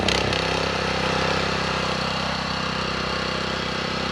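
A gas-powered lawn edger engine sputters to life and settles into a steady, loud, close idle with a rough mechanical drone throughout.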